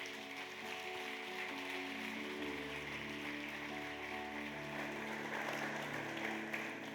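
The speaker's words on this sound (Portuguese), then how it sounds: "Aplauda Ele por isso." A church congregation claps during a sermon, a steady wash of applause over a sustained musical backdrop of held tones, fairly faint and continuous.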